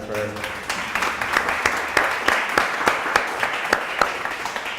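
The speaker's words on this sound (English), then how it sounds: "Let's give a round of applause" Audience applause after a talk at a startup event in Hong Kong, a steady round of clapping from a modest crowd with individual claps standing out, brief talk at the start, continuing evenly throughout.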